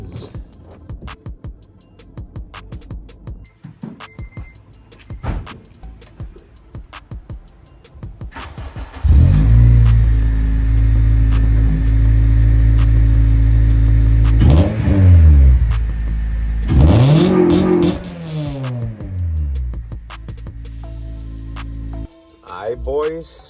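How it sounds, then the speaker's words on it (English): A 2006 Honda Civic Si with a Yonaka cat-back exhaust and new Blox Racing exhaust gasket starts and revs loudly, rising and falling in several strong pulls after quiet handling noises, then cutting off. "Blox Racing exhaust gasket. Should sound a lot better too."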